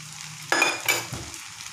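Prawns tossed into a hot pan for stir-fried flat rice noodles, two sharp bursts of sizzling close together, fading quickly back to a quiet background.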